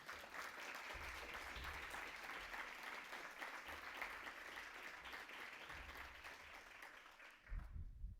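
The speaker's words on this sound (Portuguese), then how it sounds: "Eu gostaria de pedir uma salva de palmas para os familiares e os filhos do Paulo." A steady, continuous round of applause from the audience at a formal civic ceremony in Campinas, many hands clapping together at an even level before tapering off near the end, with low rumbles underneath.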